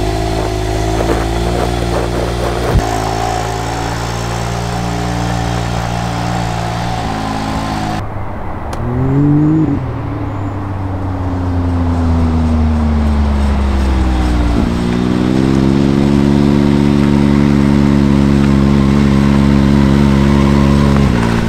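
A Can-Am X3 side-by-side drives after a lower control arm replacement. The engine is loud and close, rising and falling through several revs before settling into a strong, steady drone.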